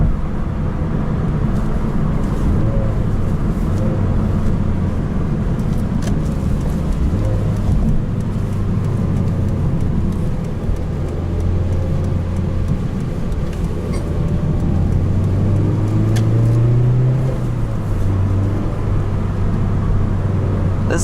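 A 2007 Mazda Miata's engine hums and rumbles steadily from inside the cabin, with road noise and shifting engine tones as it drives along.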